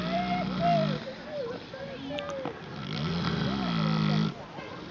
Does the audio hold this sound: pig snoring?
yes